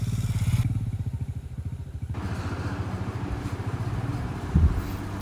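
Motorcycle engines labouring on an off-road forest trail in Kerala, a close, throbbing rumble with rhythmic pulsing and some clattering as the bikes climb.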